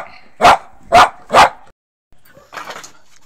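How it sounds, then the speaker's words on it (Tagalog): A pet dog named Kuko barks three times in quick succession, loud and close, followed by a brief pause and then a softer, shorter yip or whine. "Maingay yung alaga kong aso guys, si Kuko."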